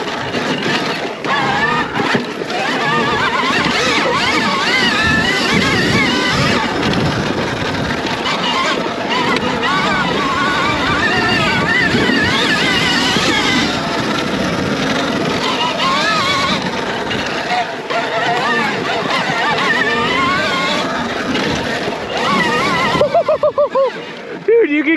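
A SurRon Storm Bee electric dirt bike ridden at speed, with a steady loud whine and heavy wind rush across the whole stretch, and a voice talking over it now and then.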